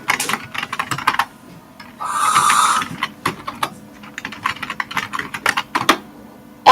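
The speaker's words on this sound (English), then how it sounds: "let me type it here in the chat." Computer keyboard typing heard alone in quick irregular bursts of clicks, close and fairly loud, with a brief continuous whir around the middle.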